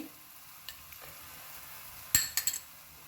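Red chili thecha with salt stir-fried in a pan, a faint low sizzle broken by a few sharp scrapes and clinks of a spoon against the pan near the end, with no voice.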